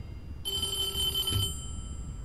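An old landline telephone gives a single brief electric bell ring, bright and metallic, lasting about a second over a quiet low hum, with no voices.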